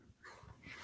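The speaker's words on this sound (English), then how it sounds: "Can you hear my dog?" A dog whimpers and whines in a short, fairly close burst while fireworks go off outside on New Year's Eve, no voices over it.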